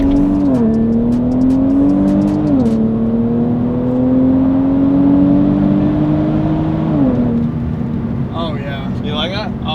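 A 1000 HP Jeep Grand Cherokee Trackhawk with straight-pipe exhaust roars loud and close, its drone climbing steadily in pitch through each gear pull with brief dips at the shifts, while people talk over it.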